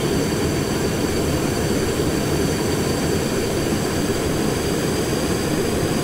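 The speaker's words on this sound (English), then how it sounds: "Oh, what's that? It's a plane." A plane in a video game, a steady dense engine and propeller drone with a constant whine above it, loud and continuous with no break throughout.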